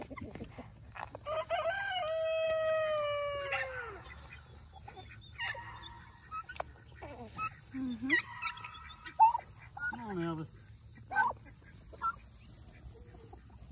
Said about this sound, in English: The big old turkeys, the guineas.